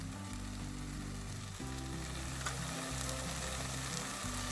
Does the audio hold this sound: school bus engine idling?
no